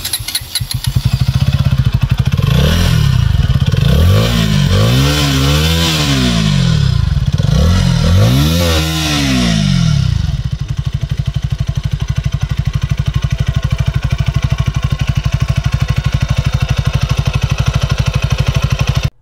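A KTM Duke 160 motorcycle with an underbelly exhaust idles and revs close by, several rising and falling throttle blips followed by a steady, loud, rumbling idle.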